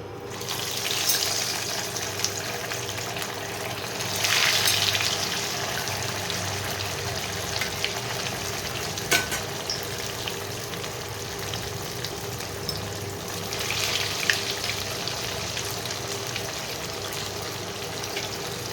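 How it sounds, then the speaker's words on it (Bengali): Lote fish cutlets fry slowly in hot oil, a soft steady sizzle throughout with two brief louder hissing surges and an occasional faint clink, fairly quiet and close. "এবারে আস্তে আস্তে কাটলেটগুলো আমি ভেজে নিচ্ছি।"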